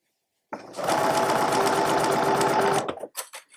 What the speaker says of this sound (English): manipulate that fabric out of the way so that I can continue sewing